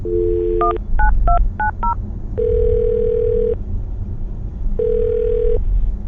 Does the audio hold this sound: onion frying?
no